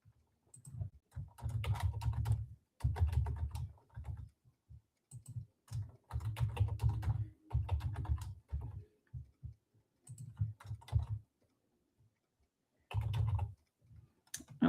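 Bursts of rapid keystrokes on a computer keyboard as a password is entered, close and clear, with short pauses between runs of typing and no talking.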